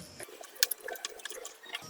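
Water swishes and drips as it is stirred into soy cutlet batter with salt, a faint, uneven series of small liquid splashes and clinks close by, with no talking.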